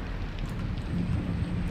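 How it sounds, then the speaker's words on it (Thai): Steady rain falling outside in the video game Among The Sleep, a soft, continuous low hiss with a faint rumble underneath, heard alone at moderate distance. "เดี๋ยวข้างนอกฝนตกนะ"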